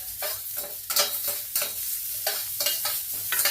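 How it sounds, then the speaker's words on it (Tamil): Tomatoes sautéing in a pan for herbal rasam, with steady sizzling and repeated scraping stirs at close range, no voices. "தக்காளியும் போட்டு நல்லா வதக்கி இதை அரைச்சி எடுத்துக்கணும்."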